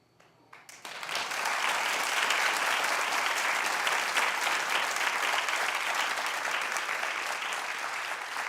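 A television talk show studio audience bursts into applause after a short quiet start, with dense, sustained clapping that holds steady and loud to the end.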